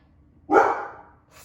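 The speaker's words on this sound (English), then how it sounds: "She likes to bark a lot" A single close, loud bark from a pet dog named Poppy rings out indoors and fades quickly, with another faint bark starting at the end.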